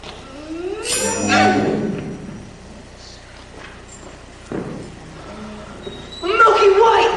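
A cow lows loudly in a long drawn-out moo near the start, with a second bellow at the end, amid talking voices and background noise.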